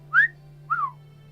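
Two short rising-and-falling whistled notes, a quick pair forming a signal, sounding close and clear over a steady low hum in a pitch-black corridor during a tabletop fantasy game session.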